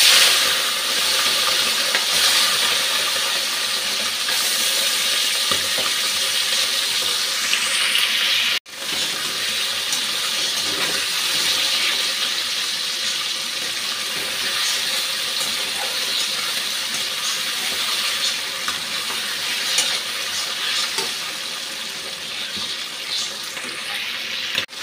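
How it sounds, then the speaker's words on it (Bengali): Tengra fish frying in a pan, a continuous bright hissing sizzle that runs steadily for the whole stretch, close and fairly loud, briefly dipping once midway before resuming. "মাছটা ভেজে নিচ্ছি।"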